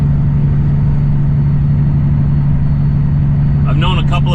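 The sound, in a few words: Jade semi truck driving past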